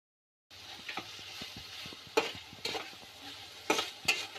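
Chopped tomatoes and green chillies stirred into hot oil with coriander powder and salt for a fish roe bhuna, starting after a brief silence with a steady sizzle, soft scraping strokes and a few louder clinks of the spatula.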